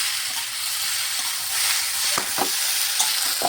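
Cauliflower stems frying with sugar in a pan, a steady close sizzle broken by several sharp scraping stirs toward the end, with no voices.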